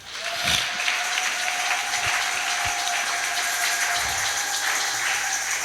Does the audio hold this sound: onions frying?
no